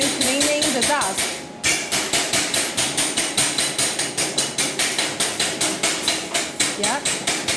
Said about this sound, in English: the small hammer is a good helper when you're cleaning the dust